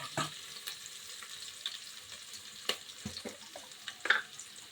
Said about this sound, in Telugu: తరిగిన ఆనియన్స్ వేసుకోవాలి.